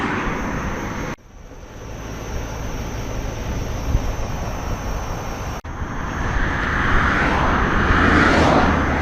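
Strong headwind buffets the rider on a Gotway MSuper V3 electric unicycle cruising around 15 mph. The roar is steady and broadband throughout and swells louder toward the end.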